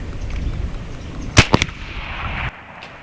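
A .45 caliber air pistol fires downrange with a sharp crack, then a quick second report follows, against steady outdoor background noise.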